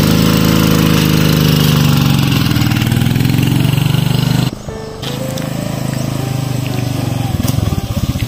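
A motorcycle engine runs close by, with a steady, loud drone that briefly dips and then resumes. There is no clear speech over it.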